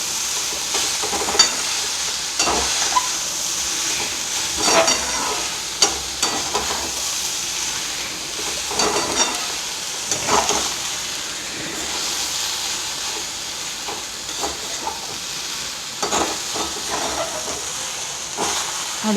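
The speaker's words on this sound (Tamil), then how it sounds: "அடியோட்ட நல்லா கிளறி விட்டுருங்க." Cluster beans paruppu usili frying in a pan while being stirred, a steady close sizzle and hiss with scraping stir strokes coming through at irregular moments, no voices.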